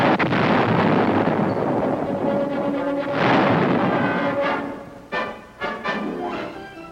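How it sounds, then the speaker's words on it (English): Artillery fire in the Vietnam War, heard as a sustained heavy rumble of distant booming blasts that holds steady and then breaks into several sharper separate thuds, loud and continuous at first and thinner near the end. "And artillery fire."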